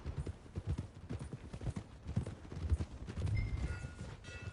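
Horse hooves clip-clop steadily at walking pace on a road approaching stables in Red Dead Redemption 2, a close, even rhythm of rounded thuds with a brief faint whinny-like tone near the end.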